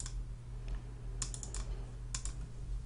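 Several soft clicks of keys pressed together on a computer keyboard during an Excel array-formula entry with Ctrl+Shift+Enter, in two brief clusters over a low steady hum, close and fairly quiet, with no talk.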